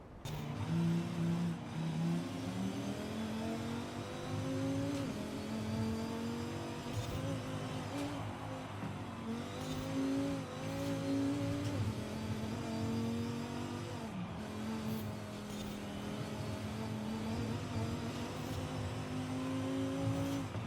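Forza Horizon 5 race car engine drones steadily for about twenty seconds, its pitch climbing and dropping through gear shifts with faint tyre noise beneath, continuous and fairly close.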